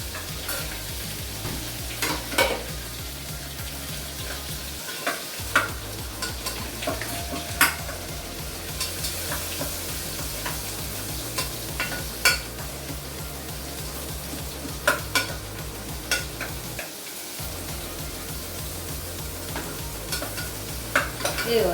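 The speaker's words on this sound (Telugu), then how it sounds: "ఆనియన్స్ అయితే మనం బ్రౌన్ కలర్ వచ్చే వరకు ఫ్రై చేసుకోవాలి" Onions fry in oil until brown for mutton keema pulao, a steady close sizzle running throughout with frequent scraping and tapping of a spatula against the pan.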